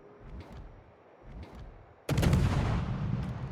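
Naval guns boom in a World of Warships battle: two muffled distant thuds are followed by one loud, close, sustained blast that rolls on and slowly fades.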